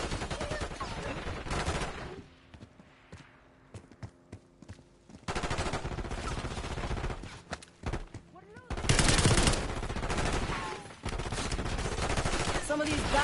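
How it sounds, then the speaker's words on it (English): Bursts of automatic gunfire in a Call of Duty: Black Ops 6 campaign firefight, loud dense volleys separated by quieter gaps, with some voices under the shooting. "Idiots! They're shooting!"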